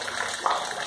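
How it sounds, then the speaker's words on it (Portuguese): Rainwater runs from a small level hose off a rooftop slab into a 1000-litre tank, a steady close gush and splash of falling water with a brief louder surge midway. "Essa água aqui, ó, vem de uma mangueirinha de nível da laje,"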